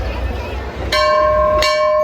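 A metal temple bell struck once and then again, each ring a clear sustained tone over background crowd murmur inside a temple.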